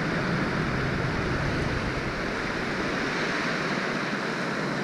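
Waves wash along the shore of Lake Michigan in a dense, continuous roar of surf mixed with wind noise on the microphone, loud and unbroken throughout.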